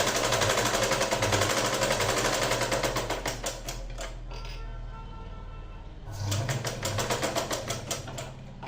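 A sewing machine runs in fast, even rapid-fire stitching bursts while sewing a straight seam on a V-neck, briefly slowing mid-run before picking back up, close and clear with no talking.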